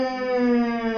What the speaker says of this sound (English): It's the sirens. Like the World War II sirens.